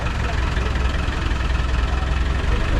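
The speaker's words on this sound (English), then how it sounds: "It does sound a bit like a transit" A ratty roadster's engine idles with a steady low, throbbing rumble and slight knock, near and continuous, its tone resembling a Ford Transit van; voices can be heard faintly alongside.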